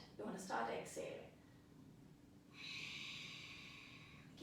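A deep exhale during a standing yoga warm-up comes as a soft, breathy rush of air, faint and close, after a brief spoken instruction.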